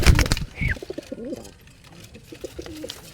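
Pigeons coo in soft, rolling phrases at close range after a loud burst of scuffling or wing noise at the start, with a few more low coos trailing off afterward.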